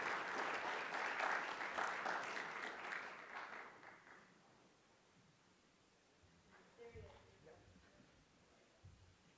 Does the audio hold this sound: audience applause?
yes